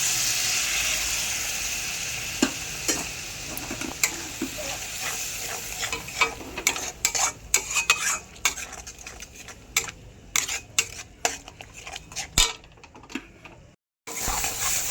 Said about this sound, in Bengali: একটু দুধটা দিয়ে একটু কষিয়ে নেব মশলাটা